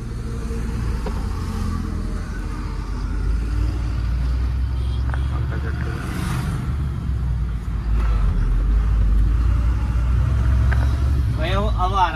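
A Tata Motors car drives along with a continuous low engine rumble and road noise from inside the cabin, growing slightly louder toward the end, while people talk over it.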